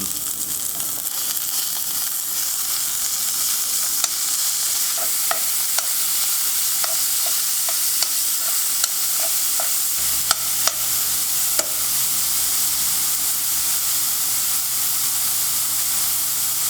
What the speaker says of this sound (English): Now let's start breaking this pork apart with a spoon.